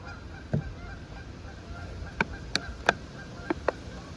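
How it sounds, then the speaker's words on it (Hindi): Ducks splash and play in water, giving several sharp, scattered honking quacks at moderate distance over a quiet outdoor background, with faint talk nearby. "वो बतखें कितना अच्छा पानी में वो कर रही हैं, खेल रही हैं बतखें।"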